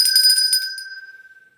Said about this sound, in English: Okay, Andy, have you got the bell?